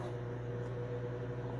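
A repaired microwave oven, its waveguide cover just replaced after a sparking fault, runs in a test with a steady, even hum and a low-pitched electrical drone, no crackle or pops, heard close and alone.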